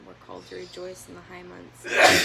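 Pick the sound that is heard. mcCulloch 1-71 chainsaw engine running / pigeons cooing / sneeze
sneeze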